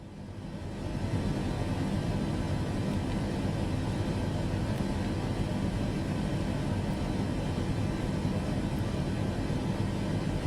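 Steady, dense engine roar of an aircraft on its takeoff roll in Microsoft Flight Simulator, a constant loud wash of noise that holds unchanged for about ten seconds with no voices.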